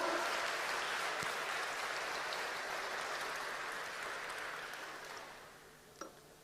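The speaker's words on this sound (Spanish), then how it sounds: "¿Alguno puede aplaudir en serio acá?" A church congregation applauds during a sermon, a dense wash of clapping that slowly thins and fades toward the end, with a single sharp knock near the close.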